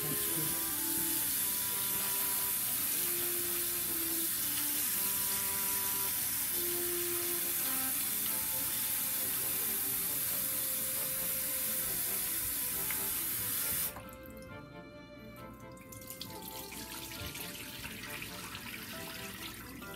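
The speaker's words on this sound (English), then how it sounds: "we wash this potato at least twice, and mix until the water is clear" Tap water runs and splashes steadily over a potato being washed for a long stretch, then drops to a softer, quieter trickle near the end.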